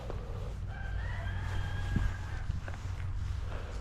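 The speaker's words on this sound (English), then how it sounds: "Where is that chicken at?" A rooster crows once from a distance, a drawn-out rising call that carries over steady background rumble, with a few soft knocks and thumps nearby.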